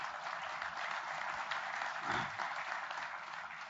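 An audience at an anniversary commemoration event applauds at moderate, fairly distant level, a steady wash of clapping with a slight swell near the middle.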